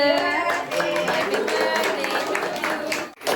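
A small child claps his hands at a birthday gathering, a quick run of light rhythmic claps heard close, with voices chatting around him.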